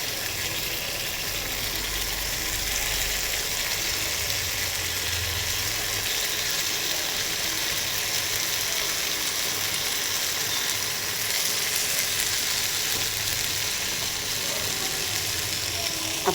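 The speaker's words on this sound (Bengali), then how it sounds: "এই হচ্ছে মোচাটা এখন দিয়ে দিব, দিয়ে ভালো করে কষাবো" Chopped banana flower hits a pan of spices already frying, and a loud, steady sizzle with a broad hiss runs unbroken for the whole stretch, no talking over it.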